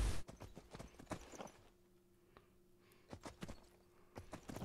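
Faint hooves clip-clop on and off in the Napoleon RP video game, irregular clusters of strikes with a quieter pause in the middle.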